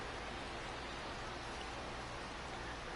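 Steady rain hiss from the video game MLB The Show 24 on a rainy June afternoon at a ballpark, a constant broadband wash of falling rain with no talk over it.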